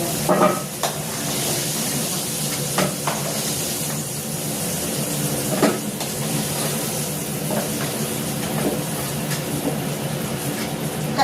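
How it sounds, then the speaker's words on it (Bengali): Fried papaya and potato are lifted from a sizzling frying pan, with steady close oil crackle broken by repeated scraping and clinking of a spatula against the pan, no voices. "এইবার আমি পেঁপে আলুটাকে তুলে নিচ্ছি"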